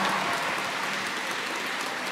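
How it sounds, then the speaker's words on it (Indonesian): Loud, steady applause from a group of Islamic boarding school students at Al-Hidayah, a dense crowd of clapping with no pauses, close and filling the space. "Tepuk tangan buat kita semua."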